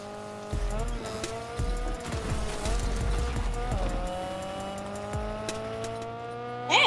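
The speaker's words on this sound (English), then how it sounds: "Hey, why is this car so fast?" Car in the Fortnite video game speeding along, engine whining and shifting pitch as it accelerates, with tire squeals and thumping impacts in the first half, fairly close and steady throughout.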